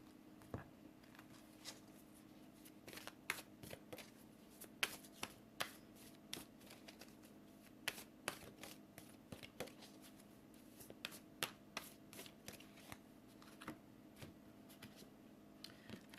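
Tarot cards are shuffled by hand in a quiet room, a series of crisp, close riffles and soft flicks repeating irregularly over a low steady hum, with no talking.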